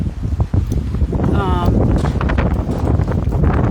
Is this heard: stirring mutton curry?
no